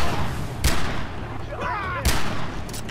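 A Magnum revolver fires two sharp, booming shots in the video game Far Cry 3, about a second and a half apart. Faint game background sits between the shots.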